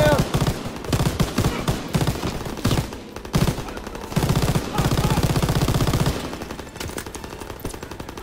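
Sustained machine gun fire in the Call of Duty WWII D-Day battle, rapid bursts of loud close gunfire with scattered explosions and battle noise, broken by brief pauses.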